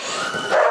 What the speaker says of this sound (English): him ignoring the other dogs like in the kennels and dogs that are barking at him